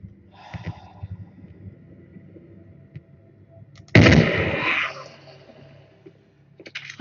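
A single loud, sharp rifle shot in the survival game Survival Instincts, a sudden blast that fades over about a second, with quieter rustling and breathing before and after.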